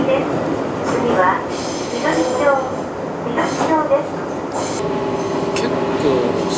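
A Daiyuzan Line commuter train in Japan rumbles slowly and steadily along the rails with a constant broad roar, faint wheel squeals rising now and then, and a voice talking over it.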